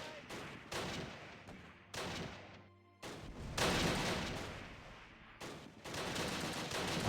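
Repeated bursts of gunfire and explosions from the video game Close Combat, dense and loud volleys with short gaps between them, no talk over them.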